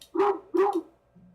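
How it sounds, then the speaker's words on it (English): A dog in a video game gives two quick, clear barks in a row, close and alone, followed by a faint low hum. "Pet the dog."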